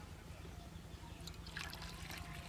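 Water poured from a jug or bottle into a drinking glass in a home, a soft trickling pour that grows brighter and splashier toward the end, faint and close with no talk.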